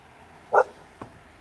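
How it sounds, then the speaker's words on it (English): A guard dog gives a single sharp bark, fairly close, with a fainter short sound following a moment later in a quiet room. "He's the guard dog."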